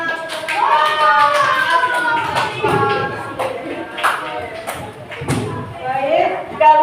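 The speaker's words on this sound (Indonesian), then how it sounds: "Oke, kita beri tepuk tangan." A classroom of students claps hands together in uneven, overlapping bursts, with voices chattering and calling out over the clapping.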